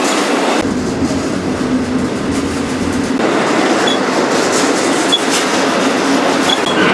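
A freight train rolls into a rail yard with a continuous loud rumble and rhythmic clatter of wheels over rail joints, heard from on board, with occasional faint squeals.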